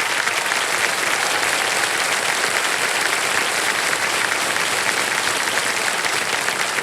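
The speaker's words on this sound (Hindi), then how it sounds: "तालियां बज जाएं इनके लिए।" Sustained, dense studio audience applause for a contestant on the Hindi quiz show KBC (Kaun Banega Crorepati), loud and even throughout with no speech over it.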